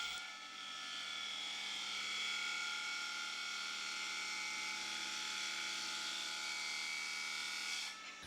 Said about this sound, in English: profile the rest of the bowl with the bowl gouge to the required shape